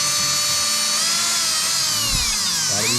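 An 80-grit abrasive on a power tool grinds a surface flat during 5.3 LS head stud work. It makes a continuous, loud, high whine that shifts slightly in pitch as the pressure changes.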